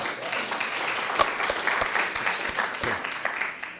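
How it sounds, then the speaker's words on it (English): Audience applause at a town hall meeting, a room of people clapping steadily with several sharp, distinct claps standing out near the microphone. "Another round of applause for Nellie."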